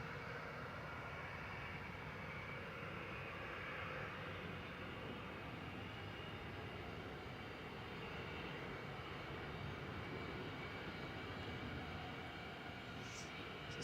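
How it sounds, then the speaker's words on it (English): A Ryanair airliner arriving from Cork lands at Manchester Airport, giving a steady, broad engine roar that stays at an even level throughout, with a faint high whistle near the end. "And Ryanair from Cork landing"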